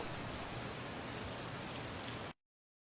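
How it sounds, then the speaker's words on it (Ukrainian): Steady, dense rain pouring down, a continuous even hiss of drops on a surface with no pauses, ending abruptly. "Так шумить дощ."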